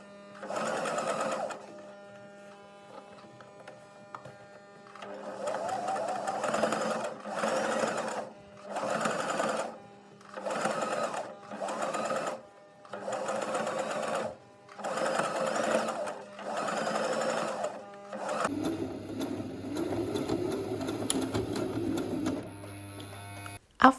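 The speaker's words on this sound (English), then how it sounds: "I'll go back to my sewing machine to top stitch the hem of the jeans" Sewing machine top-stitching the hem of a pair of jeans, running in repeated bursts of steady whirring stitches separated by short pauses, close and clear, ending with a lower, rougher run.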